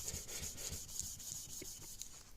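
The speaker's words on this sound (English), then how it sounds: "I like to take a piece of this fine Scotch-Brite pad and just go over this thing and just go crazy on it and sort of semi-polish the wood" A fine Scotch-Brite pad rubs back and forth over a wooden gunstock with quick, faint, rhythmic scrubbing strokes, close up and quiet, and no talking.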